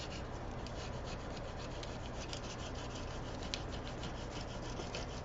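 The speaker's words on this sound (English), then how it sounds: "You're going to burnish it down." Steady dry rubbing and scraping as a tool burnishes permanent vinyl down onto masking tape on a coffee mug, continuous and close, with faint rhythmic strokes and no talking.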